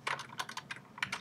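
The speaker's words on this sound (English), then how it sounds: "So, type in T-Launcher." Fingers type a short word on a computer keyboard, a quick run of crisp key clicks in uneven bursts with a brief pause in the middle, close and clear with no voices.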